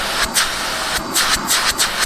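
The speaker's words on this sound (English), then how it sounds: "there's a lot of air coming out of these exhaust fans here on the side" A KARDV cordless HEPA vacuum cleaner runs steadily, blowing a broad, loud rush of exhaust air from its side vents, with a few quick bursts of hiss standing out over the constant whoosh.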